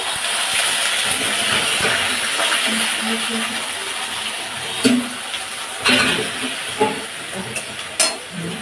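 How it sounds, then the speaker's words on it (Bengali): Onion paste dropped into hot oil already tempered with whole garam masala, a little sugar and cumin, giving a steady loud sizzle and hiss with occasional spoon scrapes and clinks against the pan. "এইবারে আমি পেঁয়াজ বাটাটা এর মধ্যে অ্যাড করব"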